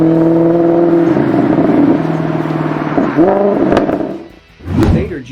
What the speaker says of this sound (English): It expresses the legendary sound that could only come from a powerful, naturally aspirated, all-Italian V8